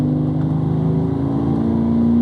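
A Jaguar XJC V12 with a manual gearbox conversion and a standard exhaust, its center silencers removed, runs with a loud, steady, deep engine drone that builds slightly at the end, with no voices.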